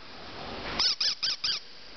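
A squeaky pet toy gives four quick, sharp squeaks in a steady rhythm, close and clear after a quiet start.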